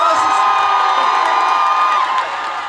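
Concert fans scream and cheer loudly at an outdoor mountain-village music festival in Jeongseon, a sustained high-pitched crowd roar with whoops that fades slightly at the end.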